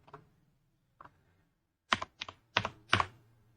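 Keys on a computer keyboard are pressed while a formula is typed into an Excel sheet: two soft isolated taps, then a closer burst of four or five crisp clacks in quick succession, with nothing else heard.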